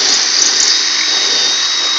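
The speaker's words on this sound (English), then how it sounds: "drill a hole" A power drill runs continuously at high speed, drilling a hole while mounting a plate during a Nautical Napper marine installation, loud and close with a steady whine and no talk.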